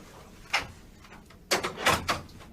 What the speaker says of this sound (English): Close the door behind you.